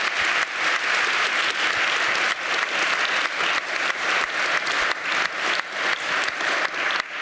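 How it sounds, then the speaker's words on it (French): An audience at a public talk about the oceans applauds at length, steady dense clapping throughout with a few stronger surges, with no voices. "on peut les applaudir déjà pour cette première partie."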